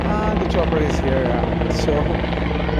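A helicopter flies close overhead, its loud, steady rotor drone filling the whole stretch, with faint voices partly audible beneath it.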